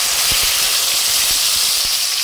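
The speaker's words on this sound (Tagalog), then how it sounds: "dahil mainit na ang ating mantika guys, pagsasama-samahin na natin ilagay ang ating bawang, sibuyas, kamatis at luya" Garlic, onion, tomato and ginger dropped into hot cooking oil, giving a loud, continuous close-up sizzle and hiss with small crackles popping throughout.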